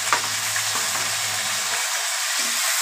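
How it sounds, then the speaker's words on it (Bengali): Garlic fries in hot oil in a pan for chicken curry, a bright continuous sizzle close up with soft stirring scrapes in the first half, no voices. "রসুনটা একটু লাল লাল ভাজা হয়ে এসছে"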